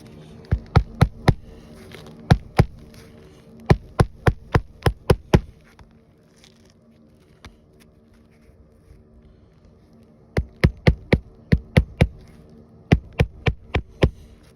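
Sharp hammer blows driving nails into roof shingles, in quick bursts of several hits each, separated by pauses, fairly close with a low hum underneath.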